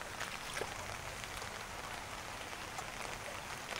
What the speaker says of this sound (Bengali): বৃষ্টি তো 3 ঘন্টা হয়ে গেছে, একটানা হচ্ছে